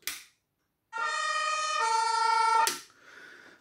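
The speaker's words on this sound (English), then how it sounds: "The only thing that's working on this one is the siren." A short electronic siren tone from an emergency vehicle siren whose lights don't work sounds for under two seconds, shifting pitch midway, framed by brief clicks and a fainter hum after.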